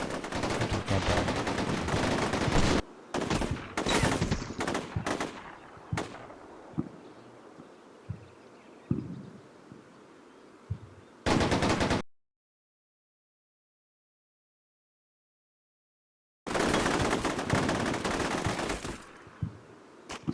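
Loud, dense bursts of machine gun fire and other gunfire in the combat video game Combat Mission Shock Force 2, rattling steadily. A long stretch of total silence cuts in before the fire resumes.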